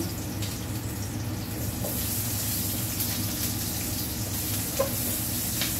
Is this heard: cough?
no